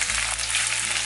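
Chopped onion hits hot oil for dry chilli chicken, a brief, loud, dense frying sizzle with a low rumble underneath and no voices.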